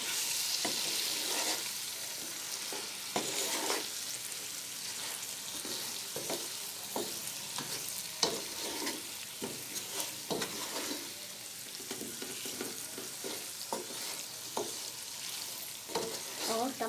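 Chicken pulao cooks in a pot with a continuous loud sizzle and frying crackle, broken by frequent irregular stirring clinks and scrapes, close up and without talk.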